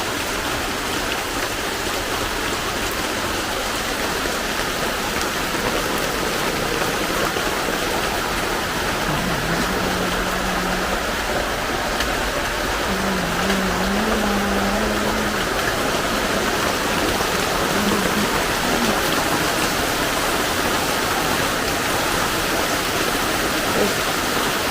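Steady heavy rain pouring down without a break, a dense even hiss close by with faint background tones.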